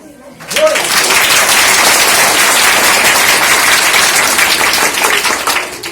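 Schoolchildren and guests applaud at the inauguration of a school laboratory; loud, dense clapping starts abruptly after a brief quiet moment and carries on steadily, fading slightly near the end.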